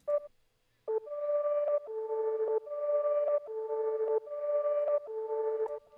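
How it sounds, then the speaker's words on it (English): Loop built in FL Studio with a halftime effect and a backwards vocal effect: sustained tonal synth-like notes in repeated segments of roughly a second each, steady and clear, with no voice. "So first I added this halftime. Then I added the backwards vocals effect,"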